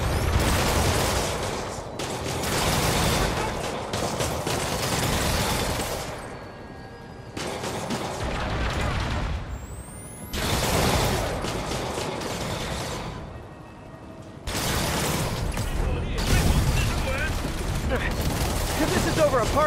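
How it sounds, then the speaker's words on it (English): Heavy gunfire with many bullets flying comes in long, dense bursts of rapid shots separated by brief lulls, loud and crackling, with voices occasionally underneath. "Too many bullets flying over there."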